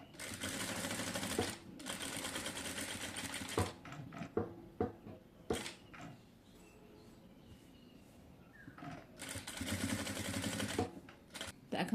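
A sewing machine stitches fabric in fast whirring bursts, loud runs separated by pauses filled with handling clicks and fabric shuffling, close up with no talking.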